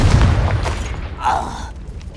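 A Confringo fire spell blast in the Hogwarts Legacy video game on PS5, a loud, close booming burst followed by a shorter whooshing flare, with a shouted voice over it.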